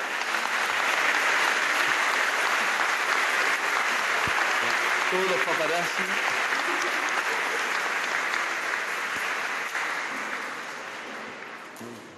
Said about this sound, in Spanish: todos juntos les damos un aplauso